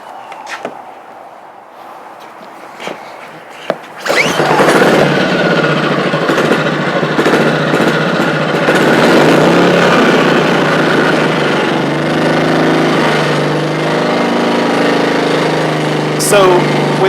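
A Ryobi 1800 gas inverter generator starts abruptly after a few faint clicks and handling noises, then runs loud and steady at close range, its tone easing slightly lower toward the end.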